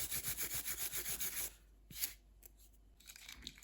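Builder gel nails are sanded at home with a rapid, rhythmic rubbing rasp of about a dozen close strokes, followed by quieter scattered scraping and taps.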